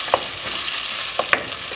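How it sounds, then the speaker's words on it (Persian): Spices and a cinnamon stick sautéing in a pot for Persian okra stew, a steady frying sizzle with a few brief scrapes and clinks of a stirring utensil, close and alone without talk. "دوباره یه تفت کوچیک میدیم."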